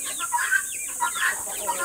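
A male goose in a backyard calls out with a few loud honking, nasal cries in quick succession, close by and with no talk over it.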